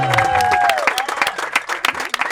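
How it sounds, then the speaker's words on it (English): At a launch event, audience applause and scattered claps mix with a whoop and cheering voices, irregular and close, with a tonal cry at the start. "And let's just give a big round of applause to Alli for helping to put this together"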